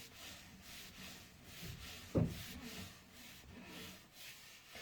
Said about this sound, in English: I just want to really rub this bit down because I want to do some cutting.